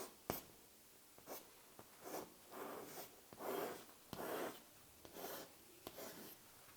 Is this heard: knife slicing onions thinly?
no